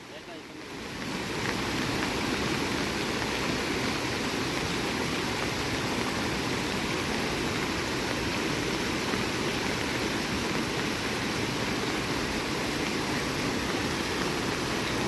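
Swollen river in Konkan after heavy monsoon rain, rushing water making a loud, continuous roar that holds steady for the whole stretch after a quieter first second.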